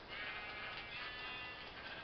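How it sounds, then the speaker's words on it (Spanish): Sheep bleating in a video game, a steady, continuous bleat held throughout, somewhat muffled with no talk over it. "Mira, ovejas."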